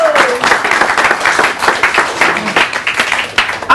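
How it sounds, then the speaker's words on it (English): Audience applauding at a sales mastery seminar, sustained dense clapping from a crowd filling the room with steady, loud rhythm throughout. "Mr. Paul Victor, give him a round of applause."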